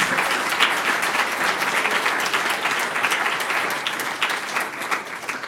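Sustained applause from an audience at a French presentation on neighbourhood energy and carbon, a dense even wash of clapping that holds for several seconds and tapers slightly near the end.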